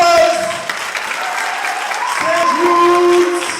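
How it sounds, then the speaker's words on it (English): An audience at a hair-styling competition expo applauds a styling team, steady clapping spread through the room for several seconds with voices and a few tonal sounds mixed in. "Sage Roots, give them a round of applause."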